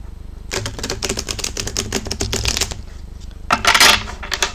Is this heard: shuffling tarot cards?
yes